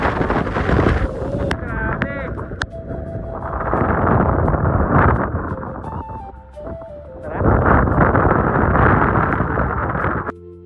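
Strong wind buffets the microphone in loud, roaring gusts that rise and fall on a mountain trail, with a few faint voices nearby.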